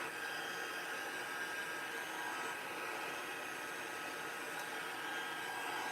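A heat tool blows a steady, loud whoosh of hot air while drying wet spots on a craft project, a constant close roar with no pauses and no voices.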